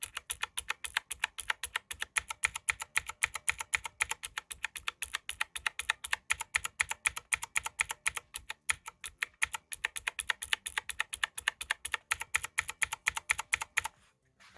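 Rapid keystrokes on a keyboard with Razer PBT keycaps fitted with O-rings give soft, muted thocks, typed in a fast steady rhythm with one brief pause, close up and without talk.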